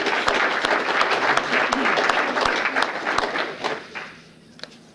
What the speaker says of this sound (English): So if we can have a round of applause for all those individuals.